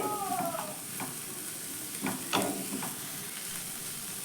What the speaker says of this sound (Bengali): তারপরে আবারও ভালো করে একটু নাড়াচাড়া করে দেব